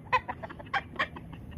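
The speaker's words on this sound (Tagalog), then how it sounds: "Di mo hilabot sa manok ha." A chicken clucks close by in a short series of sharp, irregular calls against quiet background noise.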